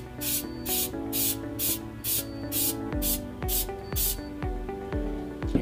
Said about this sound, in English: spray this little pine tree.